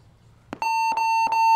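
An electronic end-of-game buzzer at a paintball match sounds in three quick tonal beeps, the last held, loud and clear over a quiet background.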